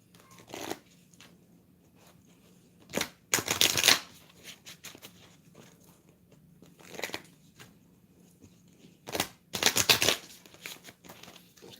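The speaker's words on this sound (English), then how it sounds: "Get one more shuffle," Oracle cards riffle-shuffled in several short bursts separated by quiet pauses, each burst a crisp papery flutter close to the mic.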